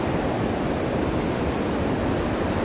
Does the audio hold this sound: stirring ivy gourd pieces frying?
no